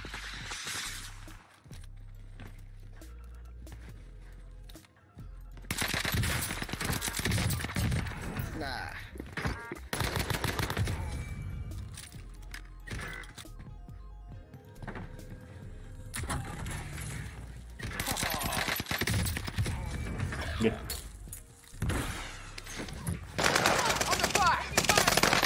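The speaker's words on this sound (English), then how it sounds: "He's shooting at me already." Automatic gunfire bursts in a competitive 2v2 video game shootout, rapid rattling volleys recurring through the clip, loud and close, with a player talking over them.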